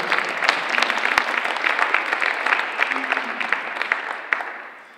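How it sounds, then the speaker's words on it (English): An audience at a high school sports banner ceremony applauds in a steady, even wash of clapping with a few sharper claps standing out, fading away at the end. "And an applause for you."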